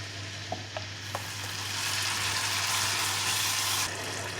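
Tomato sauce poured over roasted tomato paste fries in a pan for an eggplant dish: a few light clicks at first, then a steady, close sizzling hiss that swells louder and holds before easing off.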